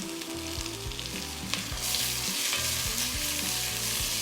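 Onions sautéing with black pepper and a pinch of salt in a cast iron pot on a Heston Q induction burner, a steady close sizzle with rhythmic low knocking or stirring beneath it.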